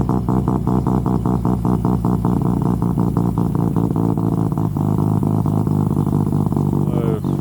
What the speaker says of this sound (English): you probably won't be able to hear anything I'm saying except for the sound of the exhaust